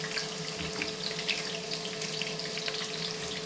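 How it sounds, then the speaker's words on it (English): Onions sizzle in hot vegetable oil in a pan, giving a steady, close hiss of frying that runs without a break through the whole stretch and holds at an even level with no talk. "you can see the vegetable oil is sizzling away"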